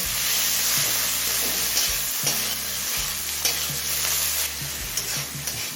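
A large chopped tomato fries in a pan over low to medium flame, with a loud continuous sizzle and repeated scraping and stirring strokes heard close by, no talking.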